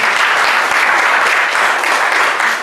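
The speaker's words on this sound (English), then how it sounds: "A round of applause for everyone." An audience at an installation ceremony for a club president and board breaks into dense, loud, continuous applause that fills the whole moment.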